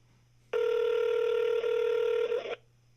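Telephone ringing on an outgoing call, a single sustained electronic ring tone lasting about two seconds, loud and clear against a quiet hum before and after.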